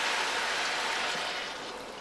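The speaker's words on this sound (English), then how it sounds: "I'm adding about a cup of water into my pan." A cup of water poured into a hot pan of cooking chicken, a steady close hiss and splash that fades slightly over two seconds, alone without talk.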